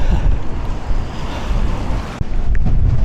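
A strong wind and rain storm hits Blackpool on a Saturday night. Heavy gusting roars and buffets the microphone continuously, with rough low rumble and spattering noise throughout, close and loud.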